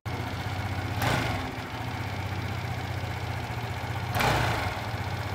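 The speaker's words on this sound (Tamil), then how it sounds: "வாங்க இதோட எக்ஸாஸ்ட் நோட் எப்படி இருக்கு" Aprilia SXR 160 scooter exhaust revving in two loud blips, at about one and four seconds, over a steady near idle that runs throughout.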